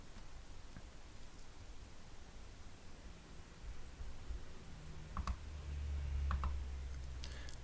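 A computer mouse gives a few faint, sharp clicks near the end, spaced about a second apart, against a steady background hiss.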